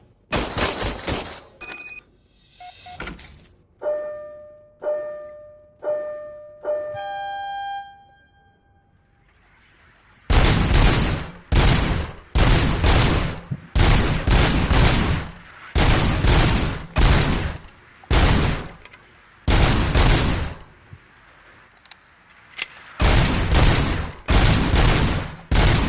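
Gunfire at a shooting test range in RoboCop: Rogue City rings out in rapid, evenly spaced bursts of loud shots, following a short run of electronic beeps and tones.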